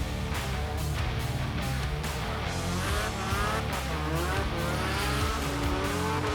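A professional drift car slides sideways at a motorsport event, its tyres squealing continuously over a loud, wavering engine howl with shifting revs, sustained and close without pause.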